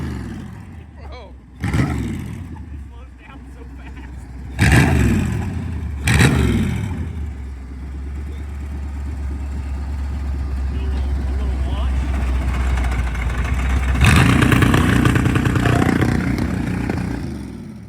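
A V8 engine mounted on a lawn mower revs hard and close, with sharp throttle blips near the start, a sustained roaring idle, and a louder surge toward the end, while voices are heard over it.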